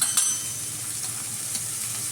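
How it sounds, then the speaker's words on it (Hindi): Sliced onion and cabbage sautéing in a hot pan for a vegetable roll, a steady close sizzle with faint stirring scrapes and no talk. "पहले प्याज ले लेते हैं, पत्ता गोभी, सब डाल लेते हैं और इसे सौटे कर लेंगे"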